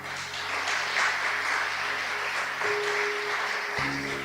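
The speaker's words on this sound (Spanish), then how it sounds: "¿Cuántos le dan un aplauso al Señor?" A church congregation breaks into sustained applause at a Spanish-language service, steady dense clapping from a crowd filling the room, with an organ or keyboard tone entering softly beneath it.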